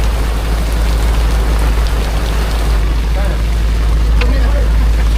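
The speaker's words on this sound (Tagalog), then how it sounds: "Yay, ulan man mga amigo." Heavy rain pours steadily with a loud, dense hiss and a strong low rumble, continuous throughout.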